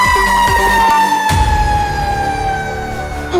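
A fire engine siren wails loud and close, its steady tone sliding slowly downward, with a low rumble beneath.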